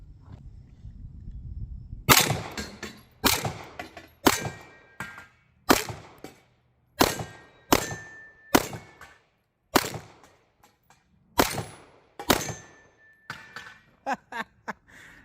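A CZ 75 B 9mm pistol fires a string of about eleven shots, each followed by a sharp ringing clang from steel targets and gongs at 10 to 25 yards, spaced roughly a second apart with a tighter burst at the end.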